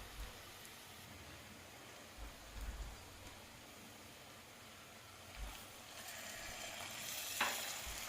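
Ginger garlic paste frying in a pan while prawn fry is being made, giving a faint, steady sizzle with occasional soft stirring scrapes and no talking.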